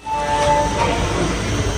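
The Sabari Express standing at a platform gives off a steady low rumble with a faint hissing layer and a thin sustained tone, heard up close with no talk.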